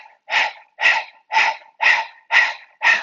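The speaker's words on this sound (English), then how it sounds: "pant like a dog" Rapid, rhythmic forced panting like a dog, six sharp breathy exhales evenly spaced and close up, from a Breath of Fire breathing exercise, with no talking.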